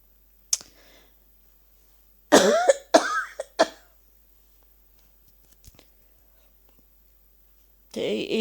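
A few sharp coughs and throat-clearing bursts come in close, quiet surroundings, clustered mid-clip between silences, with another breathy burst at the end.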